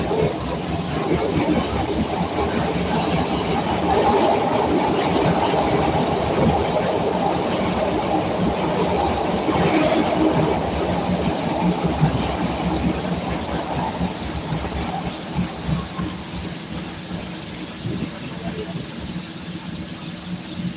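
A Chicago Red Line subway train rumbles along the rails near Jackson station with a loud, steady roar, faint wheel squeals and clatter, easing slightly toward the end.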